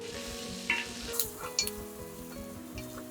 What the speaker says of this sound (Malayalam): നമ്മുടെ സവോള ഏകദേശം ഫ്രൈ ആയി വന്നിട്ടുണ്ട്